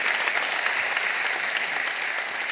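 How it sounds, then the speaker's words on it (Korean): A church congregation gives big applause to welcome students and their parents during Sunday worship, a full, even roar of clapping from a large crowd that holds steady throughout. "큰 박수로 환영하시기를 바랍니다"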